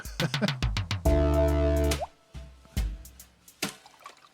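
Plopping, bubbly bottled water sound used as a sample in a music track, a series of short wet pops with one sustained tonal, gurgling stretch, heard without talk.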